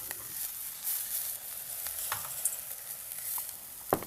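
Vegetables sizzle and hiss in a pan from an Elo New Lagoon cookware set just after a splash of water is added, a loud, continuous frying crackle with occasional stirring scrapes and no talk.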